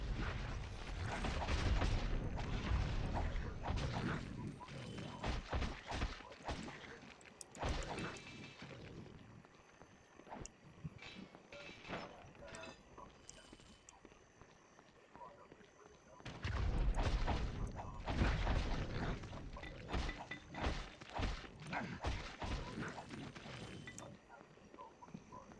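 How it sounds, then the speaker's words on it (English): Enemy grenades explode repeatedly in the video game Baldur's Gate Dark Alliance, with two dense stretches of booming blasts and combat clatter and a quieter lull between them, and someone talks over the action. "Quit throwing grenades."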